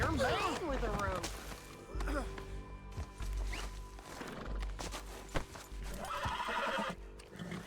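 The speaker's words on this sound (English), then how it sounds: "Ease up on that horse, John." Horse neighing and hoofbeats from the video game Red Dead Redemption 2, a whinny near the start followed by steady clip-clop steps under layered game sounds and background effects.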